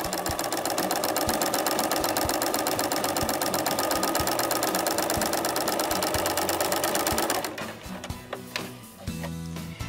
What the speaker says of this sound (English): all we do is simply sew, and it is gathering my top fabric to the bottom fabric